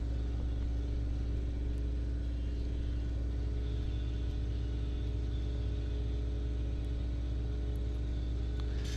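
Drag racing cars launching at Coles County Dragway during bracket and index racing, heard as a steady low engine rumble that holds throughout without a distinct launch burst.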